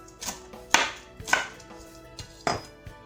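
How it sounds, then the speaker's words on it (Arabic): A knife chops chives on a board, giving a few sharp, close taps spaced unevenly with quiet gaps between them and no talking. "وغادي نقطع هذاك شويه ديال لاسيبوليت"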